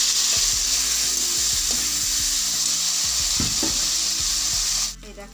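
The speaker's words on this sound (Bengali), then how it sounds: "এই যে পনিরগুলি আছে না, এটা ভেজে নেব" Paneer pieces coated in turmeric and salt fry in hot oil, a steady loud sizzle with occasional low knocks of a spatula, cutting off abruptly near the end.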